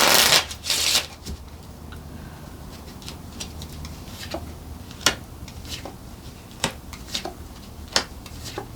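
Tarot and Lenormand cards are shuffled by hand, a riffling burst up front followed by a string of soft, sharp card snaps and taps at irregular intervals, close and quiet with no talking.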